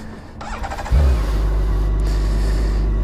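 A 2020 BMW K1600GTL motorcycle's starter whirs briefly before the engine fires with a sharp rise, then settles into a strong, even idle close by.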